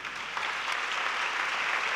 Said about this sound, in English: No wonder you get a round of applause.